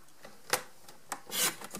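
Paper trimmer slicing a gift tag, a few quiet, brief rasping strokes and soft clicks close by.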